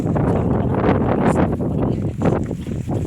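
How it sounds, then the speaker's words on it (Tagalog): Strong wind gusts buffet the microphone on Tai Mo Shan, Hong Kong's highest mountain peak, a loud rumbling roar that surges and dips in uneven gusts throughout. "Okay, mahangin."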